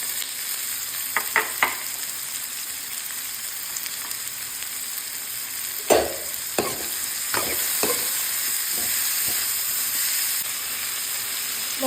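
Garlic, onions and carrots sautéing in oil for fish escabeche give a steady sizzling hiss, broken by a few sharp stirring scrapes and clatters in the pan, close and moderately loud with no talking.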